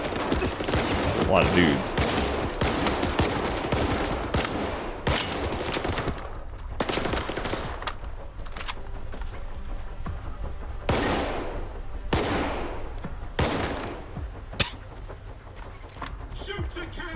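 Dense bursts of gunfire ring out in S.T.A.L.K.E.R. 2: Heart of Chornobyl, with sharp repeated shots and rapid automatic volleys that come in loud clusters, while someone talks over the shooting.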